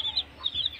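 Aseel chickens cluck in a few quick, soft, high-pitched notes close by, a brief burst of fowl calls.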